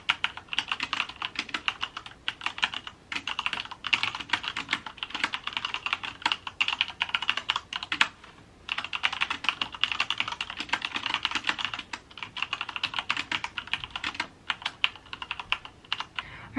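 Steady typing on a computer keyboard during a novel-writing session, with fast irregular clicks running almost continuously. It is close and fairly quiet, with a few short pauses and no voices.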